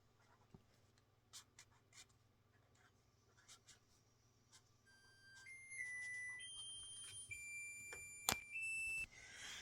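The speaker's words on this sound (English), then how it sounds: "that was my timer, so I just popped my dinner out of the oven" An oven timer sounds a series of steady electronic beeps that step through several pitches near the end, following quiet pen scratches on paper in a calm indoor room.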